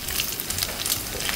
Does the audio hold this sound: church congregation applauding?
no